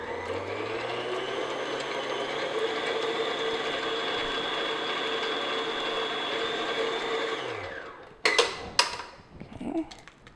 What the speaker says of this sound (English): I'm just going to beat this just until it's nice and creamy and smooth